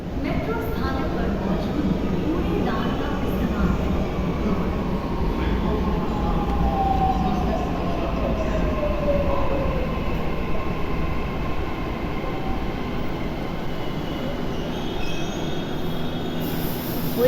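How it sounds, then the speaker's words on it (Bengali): A Mumbai local train pulls into a station, its wheels squealing in long, loud, drawn-out metallic screeches over a constant rumble, with crowd voices faintly underneath. "এবার দেখি ট্রেন কতক্ষণে আসে"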